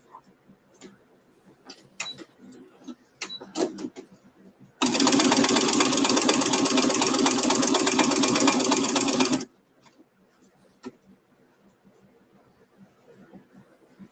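A sewing machine stitches a quilted tote in one steady, loud run of about five seconds. Scattered clicks and handling noises come before and after it.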